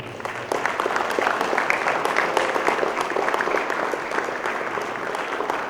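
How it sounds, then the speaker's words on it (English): Audience at a junior-level school quiz competition giving a sustained round of applause, dense and steady clapping from many hands throughout, moderately loud with no talk over it. "please give a thunderous round of applause to him"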